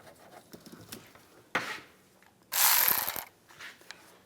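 Hand ratchet tightening the nut on a windshield washer reservoir of a 2005-2010 Dodge Dakota, close clicking in short bursts: a brief stroke, then a longer, louder run of rapid clicks, with quieter handling noises between.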